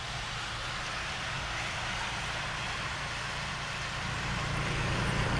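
A car rolls across the Hoover Dam with a steady, close road and engine roar and broad tyre hiss. The noise stays even throughout and no one speaks.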